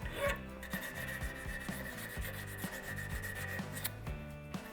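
Sanding a wooden tobacco pipe to round off its sharp corners, a close, continuous rasping rub in short repeated strokes of even rhythm, heard alone.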